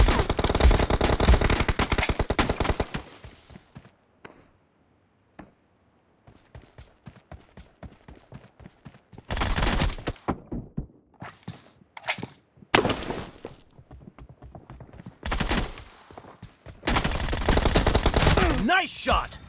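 Automatic weapon fire in PUBG Mobile team deathmatch rattles in loud, rapid bursts separated by gaps of scattered single shots and quieter clicks, with several long sustained volleys spread across the clip.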